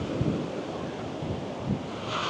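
Ocean surf rolls onto Saud Beach in Pagudpud, a broad steady wash of breaking waves with wind buffeting the microphone and a couple of deeper surges, loud and close, with no voices.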